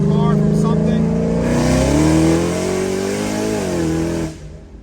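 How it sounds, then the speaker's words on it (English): Ford Shelby GT500 with a slipping supercharger belt, accelerating hard from inside the cabin, with a loud rising engine drone that holds, then drops off sharply near the end. "getting belt slip though, I can feel"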